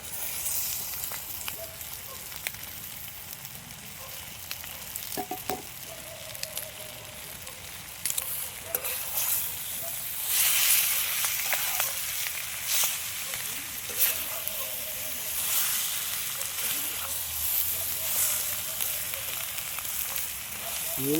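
About 1.25 kg of large, biryani-size chicken pieces for Maharaja chicken curry sizzle steadily in a hot pan, with a constant bright hiss broken by occasional clinks and stirring scrapes.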